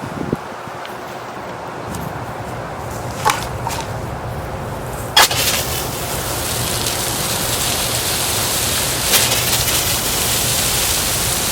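Water gushes steadily into a dug planting hole for a transplanted rose in a central Florida garden, a soft hiss that swells into a loud, continuous rushing pour after a few quieter moments.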